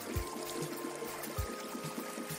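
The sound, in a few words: cartoon ox jumping into a river, water splash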